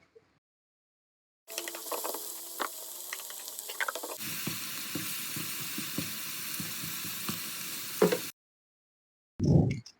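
Onions frying in ghee give a loud, steady hiss that starts abruptly, changes tone midway as the onions are stirred, then cuts off, followed by a brief clatter.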